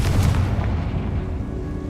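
Confringo fire spell exploding in Hogwarts Legacy, a deep rumbling boom that starts loud and rolls on steadily for about two seconds, with no talking.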